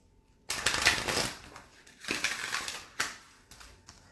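Shuffling an oracle card deck, with papery riffles and soft slaps of cards being handled close by in a few short bursts.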